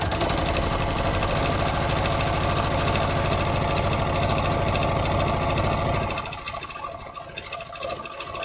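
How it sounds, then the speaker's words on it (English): A sewing machine running a triple zigzag stitch close to the edge of denim jeans, a loud continuous mechanical whir that drops off and fades near the end. "I'm going to go back and get my triple zigzag, and I'm going to stitch really close to the edge"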